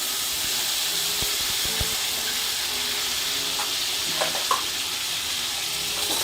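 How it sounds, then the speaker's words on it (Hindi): Tomato paste going into a hot pot of dal chicken pulao brings a loud, constant sizzle and hiss close by, with a few faint clinks and stirring knocks over the steady frying. "अब इसमें डालेंगे टमाटर पेस्ट"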